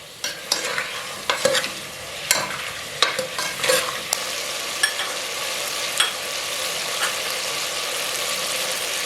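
Potato pieces fry in a pan over high heat, with a steady hiss of sizzling oil broken by sharp scraping and clattering stirs at irregular intervals.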